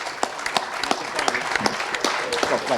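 An audience at a Cheltenham Festival preview night applauds FansBet ambassador Brian Hughes with a steady, dense round of clapping from many hands, fairly close and filling the whole stretch.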